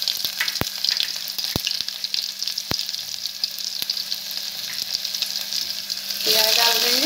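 Garlic frying in hot oil with cumin and asafoetida for black urad dal, a steady close sizzle with occasional sharp ticks of a spoon stirring, swelling louder near the end.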